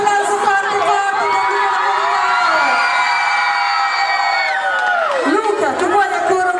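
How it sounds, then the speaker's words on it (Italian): A crowd at an interview event in Busnago with a singer cheers, whoops and shouts loudly, sustained voices ringing out together with no pause. "La devi sentire con un applauso forte forte"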